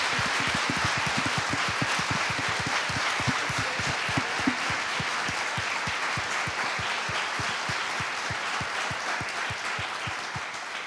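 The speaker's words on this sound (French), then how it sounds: "Est-ce qu'on peut applaudir nos élèves?" Sustained applause from a school audience for students, steady dense clapping filling the whole stretch at close range with no voices over it.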